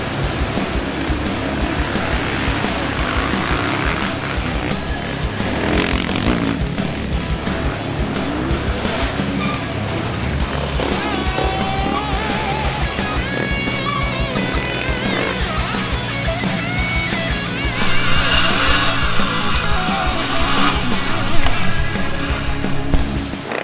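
Motocross motorcycles and quads race on a rough, dusty dirt track torn up by four-wheelers, engines revving and droning continuously at close range, rising louder toward the end.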